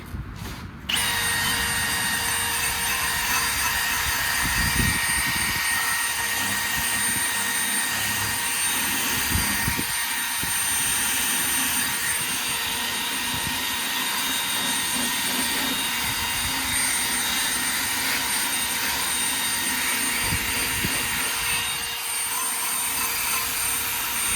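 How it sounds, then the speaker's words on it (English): Powered wire brush cleaning the rims of a trailer, a loud, continuous high-pitched whine that starts abruptly after a second and runs steadily throughout with slight load changes as it bites the metal. "I'm gonna go ahead and start with the wire brush"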